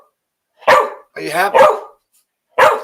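A dog barks in a few separate short bursts close by, including a whining, yelping vocalization, with a person speaking to it briefly between them.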